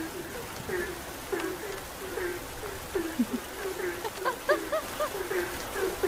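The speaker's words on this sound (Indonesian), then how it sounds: "Kan agak annoying juga lama-lama nih suara kodok ya di denger anjir." Frogs croak repeatedly in short, rhythmic calls during rainy weather, a series of close, moderately loud pulses over a constant hiss of rain.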